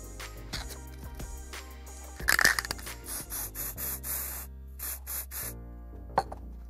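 Tin cans are spray-painted in short, close hissing bursts, several quick sprays in a row after some light rubbing and handling noises, with no voices.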